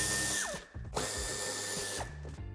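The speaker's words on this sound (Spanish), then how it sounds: "Y en ambas esquinas quitaremos el tornillo de Torx de 25." A power drill unscrews a Torx 25 screw from the bumper of a Škoda Yeti, with short high whining bursts that start and stop, rising and falling in pitch, up close with no talking.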